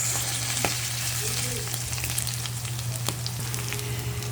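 Pork and onions fry loudly in a pan with a dense, continuous sizzle, broken now and then by crackles and light stirring knocks, and no one speaks.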